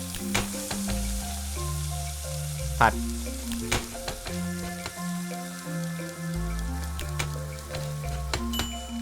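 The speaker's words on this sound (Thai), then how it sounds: "เอาละทีนี้ก็เอาไปทอดในกระทะ" Food sizzling and frying in a pan while cooking in the game Dordogne, a steady crackle with stirring under soft, gentle background music, no voices.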